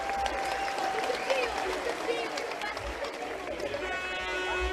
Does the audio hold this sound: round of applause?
yes